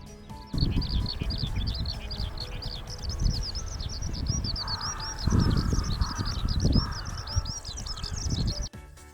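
A Eurasian skylark sings a continuous, high, rapid warbling song over coastal flower meadows in Hokkaido, carrying on throughout with gusty low wind rumble underneath.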